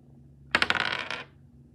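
Dice rolled across a table during a tabletop game, a quick burst of clattering bounces lasting under a second, close and fairly loud.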